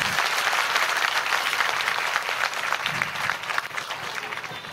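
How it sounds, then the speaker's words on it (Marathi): Loud, sustained applause from a large audience of women at a gathering, a dense wash of clapping that holds steady before easing off slightly toward the end. "जोरदार टाळ्या"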